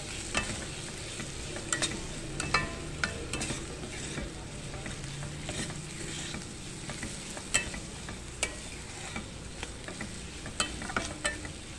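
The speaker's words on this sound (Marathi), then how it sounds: "हे मसाले आता मी ह्या तेलामध्ये टाकते सगळे। मसाले आपल्याला आता छान परतवून घ्यायचे असे" Ground chilli and other spice powders sauté in hot oil while being stirred, giving a steady close sizzle with scattered sharp clicks from a utensil against the pan, for shrimp masala.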